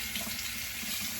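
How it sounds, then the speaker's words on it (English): A running tap splashes water onto a shaving brush at a bathroom sink, a close, steady hiss of flowing water lasting about a second with no talk. "A little water on the brush."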